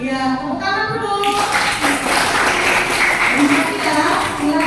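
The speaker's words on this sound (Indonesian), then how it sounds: "Ya, tepuk tangan dulu." Children in a primary-school classroom break into a round of clapping during a morning lesson, a dense, steady patter of many hands that starts abruptly and carries on with voices mixed in.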